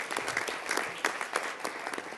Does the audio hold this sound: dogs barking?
no